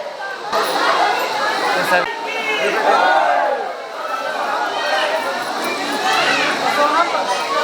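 A large crowd of devotees mills around the gate of the Maa Sharda temple in Maihar, a constant loud hubbub of overlapping voices with occasional shouts rising from the throng.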